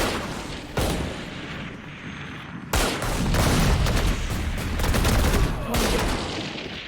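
Gunfire in the video game Valorant during a tournament match, dense bursts of shots and booming impacts layered loudly with abrupt cuts between heavy volleys, continuous and close.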